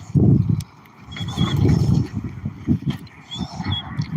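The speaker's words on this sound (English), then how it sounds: "Beautiful horses, right?" A horse whinnies with high thin cries amid heavy snorts and thudding hoof sounds close by, at Bayou Segnette.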